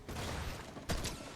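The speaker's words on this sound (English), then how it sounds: "I'm gonna shoot him with my pump" A pump shotgun fires in a ranked video game match, a single sharp blast standing out near the end of a busy, noisy game soundscape.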